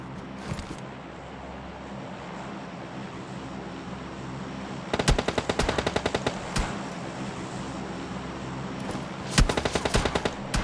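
Automatic gunfire in PUBG Mobile Lite, two separate rapid bursts of closely spaced shots over a steady ambient game background, with a few lone shots in between.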